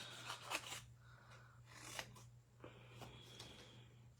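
Scissors snip through a paper craft piece at a crafting session, a few separate crisp cuts in short bursts with pauses between, close and fairly quiet over a steady low hum.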